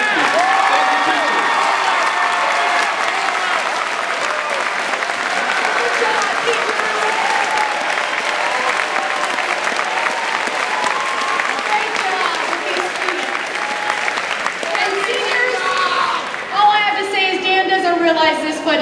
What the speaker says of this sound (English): And boys and girls, give your teachers a round of applause.